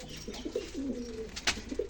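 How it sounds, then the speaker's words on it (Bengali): Kalanka pigeons in a loft give soft, low, throaty coos, several short murmuring phrases close by, with a brief rustle partway through. "এই যে এখানে কালাঙ্কা পায়রা রয়েছে দাদার।"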